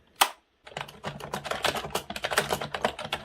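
Fingers type on a Microsoft computer keyboard fitted with an armrest and extended feet, giving a close, brisk run of clicking keystrokes after one isolated tap and a short pause.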